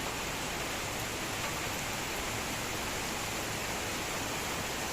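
Rain falls on an open rooftop as an evening storm moves in, making a dense, even hiss that is loud and unbroken throughout.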